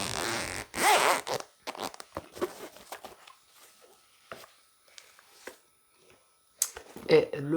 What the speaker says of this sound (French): La petite fermeture éclair signée